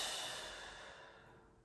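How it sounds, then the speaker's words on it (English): A long, soft exhale during a home stretching routine, breathy and close, fading steadily over under two seconds, with no talking. "Last time, breathe in, breathe out"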